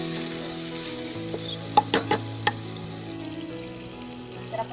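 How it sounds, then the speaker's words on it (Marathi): Chicken masala frying for biryani sizzles steadily in a pan, with a few sharp stirring clinks and bursts of louder hissing in the middle as water goes in; no one speaks. "तर आता आपण यामध्ये पाणी घालून घेऊया"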